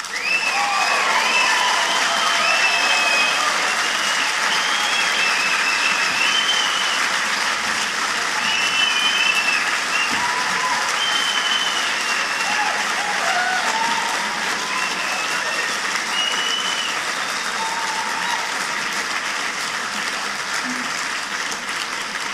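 Sustained audience applause at a debate on whether we can be good without God, a dense, steady clapping from a large hall crowd lasting over twenty seconds, with scattered faint voices mixed in.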